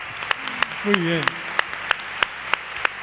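An audience at a televised gala claps along in a steady, evenly spaced beat, sharp single claps recurring about three times a second, with a brief spoken voice partway through.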